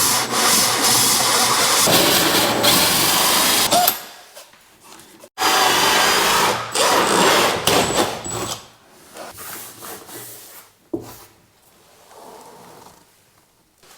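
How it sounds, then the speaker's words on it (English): A drill bores a hole through a wall board to fit an electrical socket, a loud steady grinding whine for about four seconds. It cuts out, starts again for another few seconds, then tails off into quieter scraping and handling noises. "So now you can see where I've drilled that hole there."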